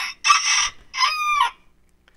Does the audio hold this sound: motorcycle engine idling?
no